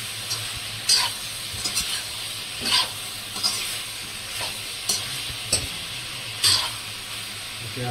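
Swamp eel curry with potatoes sizzles steadily in a pan, with soft, repeated scraping strokes of stirring breaking through the hiss every second or so.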